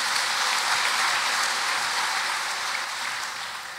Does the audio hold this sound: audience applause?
yes